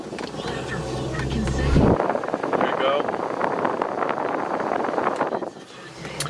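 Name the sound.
1971 Volvo 1800e ventilation fans running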